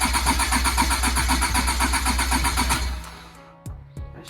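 A four-door Honda Civic sedan with a swapped D16Y8 SOHC VTEC engine cranking, a loud, close, rapid rhythmic starter churn for about three seconds, then cutting off, followed by a couple of faint knocks.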